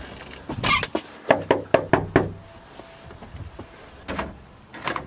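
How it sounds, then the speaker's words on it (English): Knuckles knock on the door of a house in a quick series of sharp raps, then a pause and a few more knocks, close and solid, with no talking over them. "All right, let's knock on this door."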